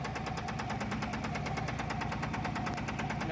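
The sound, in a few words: Mahindra Jeeto engine running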